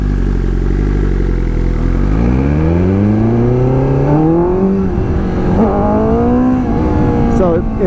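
A BMW S1000RR motorcycle revs hard as its front wheel lifts, the engine note climbing steadily in pitch through rising gears, loud and close with wind roar throughout.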